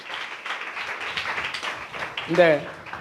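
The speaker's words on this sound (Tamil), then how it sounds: "நல்ல 2 கைகளை தட்டி ஆண்டவரே" A church congregation clapping their hands in a steady, crowded patter, with a voice rising over the clapping near the end.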